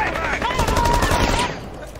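Rapid automatic gunfire from the Rainbow Six Siege video game, a dense sustained burst of loud shots that tapers off near the end, with faint voice chat underneath.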